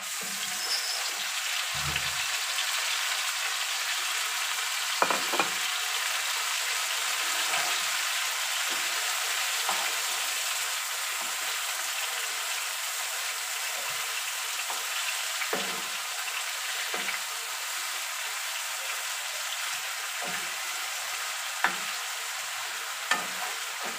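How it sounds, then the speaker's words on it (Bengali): Meat hitting a pan of fried onions, heard as a continuous close sizzle with occasional spatters and stirring knocks, no voices. "এখন আমি মাংসগুলো দিয়ে দিই"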